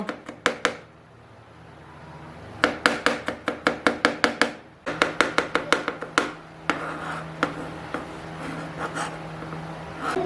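Garlic is finely chopped with a knife on a board, in quick bursts of sharp, close taps in rapid runs with short pauses between.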